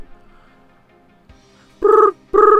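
A voice imitates a telephone ringing with two loud, buzzing electronic-style bursts in a brr-brr rhythm, close and clear after near silence.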